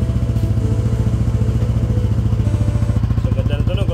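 Yamaha NMAX V2 scooter engine idling through a stainless steel Kalkal exhaust pipe, a steady close-up throbbing putter with a fast even pulse, loud and continuous with no talk over it.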